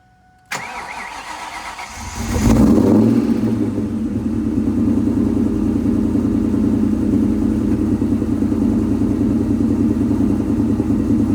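A Ford Mustang Mach 1 with a new mid pipe and cat-back exhaust cranks and starts, then settles into a deep, loud, steady exhaust rumble at idle, close by, with no voices.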